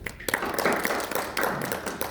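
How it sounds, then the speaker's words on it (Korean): Audience applause at a peace conference, scattered hands clapping in uneven bursts with a few sharper claps standing out, fairly close and fading briefly before picking up again. "발표를 잘 마쳐주신 우리 권 박사님한테 다시 한번 박수 부탁드립니다."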